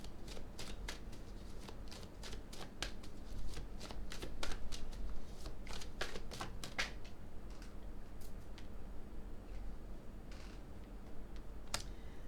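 Tarot cards are shuffled close by in a quick, steady run of crisp riffling flicks, continuous for several seconds over a faint background hum.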